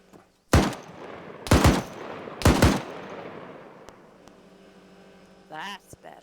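Vehicle-mounted machine gun in a video game fires three loud, close bursts about a second apart, each trailing off into a lingering echo, followed by a brief electronic sound near the end.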